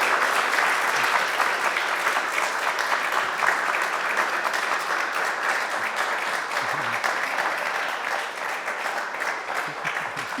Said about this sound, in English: So let's have a round of applause for today's guest.